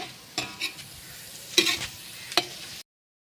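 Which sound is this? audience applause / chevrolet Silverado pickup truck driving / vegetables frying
vegetables frying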